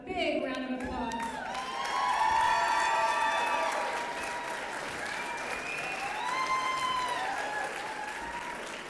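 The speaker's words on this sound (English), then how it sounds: "Please give him a big round of applause." A large crowd at a health freedom rally at the Oklahoma State Capitol breaks into sustained applause for a state senator, with scattered cheers and whoops rising over the steady clapping.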